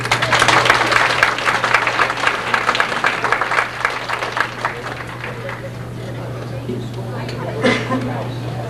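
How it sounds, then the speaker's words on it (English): An audience at a band banquet applauds first-year symphonic band members, a dense burst of clapping that thins out and fades within several seconds, over a steady background hum. "So you can applaud here quick if you want to."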